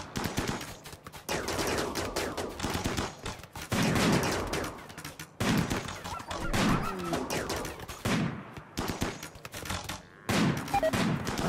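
Weapons fire back and forth in a RimWorld battle of advanced against old-fashioned arms: near-continuous volleys of rapid gunshots, loud and dense, with brief gaps between bursts.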